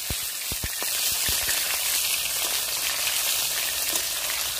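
Katla fish pieces frying in hot oil just after flipping, a dense continuous sizzle with scattered crackling pops at the start, close and steady without speech.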